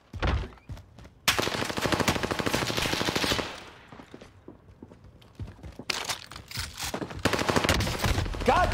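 Gunfight in Warzone, a video game: loud bursts of rapid automatic fire, a long volley, then a quieter gap with scattered shots and footsteps before firing resumes.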